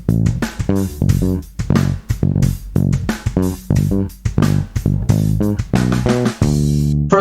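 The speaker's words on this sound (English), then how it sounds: "So the main groove is gonna sound like this." Bass guitar plays the main groove of a song: a steady, rhythmic run of punchy plucked notes and octave jumps, close and clear with no voice.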